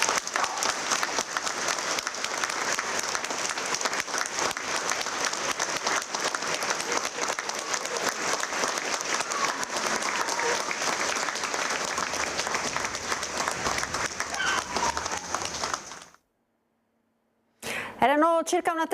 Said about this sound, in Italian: una folla commossa si è lasciata andare a un applauso liberatorio